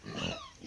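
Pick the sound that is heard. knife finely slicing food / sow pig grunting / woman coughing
sow pig grunting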